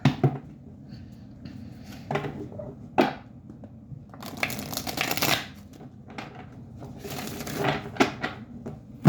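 Tarot cards being shuffled in bursts of riffling and sliding, fairly close, with pauses between rounds and no talking.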